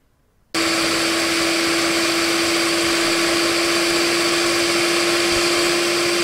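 An electric mixer beats butter and sugar for eggless atta jam biscuit dough in a bowl. After a brief silence it starts suddenly and runs as a loud, steady motor whine to the end.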